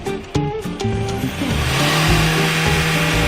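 A car engine revs up as the accelerator pedal is pressed during a vehicle inspection, rising from idle into a sustained loud roar with no one speaking.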